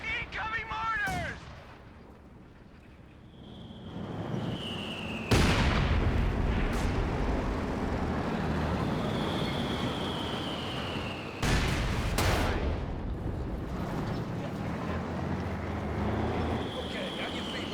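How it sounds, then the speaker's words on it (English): Incoming mortar fire in the World War II strategy game Company of Heroes 2: whistling shells come in, then heavy blasts boom in a couple of loud impacts over rumbling battle noise, and voices talk underneath. "Incoming mortars!"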